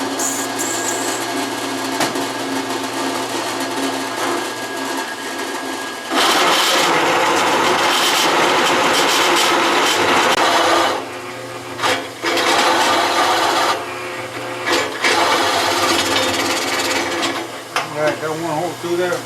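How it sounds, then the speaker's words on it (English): An electric drill bores holes through steel brackets for big mounting pins on a cultipacker in a workshop. The loud, harsh grinding rises and falls in long stretches, with brief pauses between passes. "we got to drill 2 holes to these brackets for these big mounting pins"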